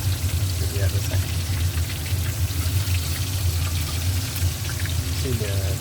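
Fish sizzles in hot oil in a pan over high heat, a loud continuous crackling fry heard close up.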